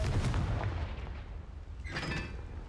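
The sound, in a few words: Confringo blast spell in video game Hogwarts Legacy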